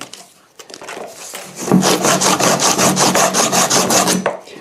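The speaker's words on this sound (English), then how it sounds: "Get this kind of sandpaper. This is a kind of fabric kind of sandpaper." Fabric sandpaper rubbed around copper pipe to clean it for soldering, a steady rapid rasping scrape that starts after a quiet moment and runs loud and close for about three seconds before stopping.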